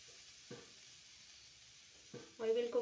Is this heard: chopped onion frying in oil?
yes